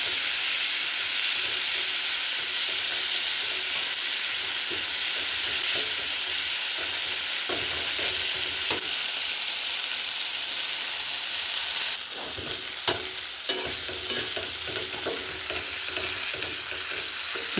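Sesame paste, green chilli paste and chilli powder frying together in a pan for a red lentil and cauliflower dish, with a continuous loud sizzle and frequent scraping stir strokes, growing more clattery near the end.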